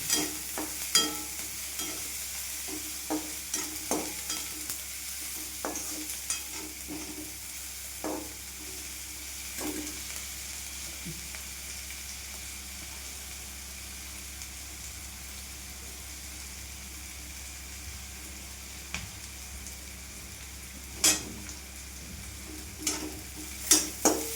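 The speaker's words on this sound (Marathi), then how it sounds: "गुलाबी होईपर्यंत परतायचं आहे का?" Onions sautéing and being stirred in a pan for a kurdai onion vegetable dish, with a steady soft sizzle under scattered sharp scraping clicks of the spoon, fairly quiet and close, with no talking.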